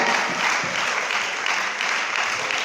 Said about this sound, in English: Please a big round of applause for Mr.